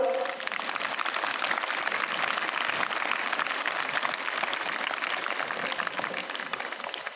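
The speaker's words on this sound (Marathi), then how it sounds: "अशा या काकांसाठी सर्वांनी जोरदार टाळ्या वाजवायच्यात आपण" A school audience claps loudly for a visiting guest speaker, steady dense applause from many hands holding an even level for several seconds without letting up.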